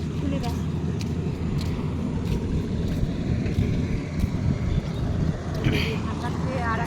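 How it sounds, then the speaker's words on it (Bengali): A rice harvesting machine works a paddy field on a rainy day, its engine giving a steady low rumble throughout with wind buffeting the microphone and faint voices in the background. "আর একটা ধান কাটা গাড়ি আসে আছে"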